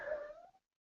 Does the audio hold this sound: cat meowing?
yes